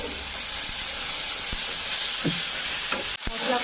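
Ground spices with garlic paste and ginger paste fry in a pan with a steady, close hiss and sizzle, broken by a few soft stirring scrapes and a brief clatter near the end, with no talking.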